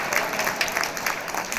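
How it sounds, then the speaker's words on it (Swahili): Steady applause from a crowd gathered to welcome Prof. Nyong'o, continuous clapping throughout with a voice faintly beneath it. "Munipigia makofi ya"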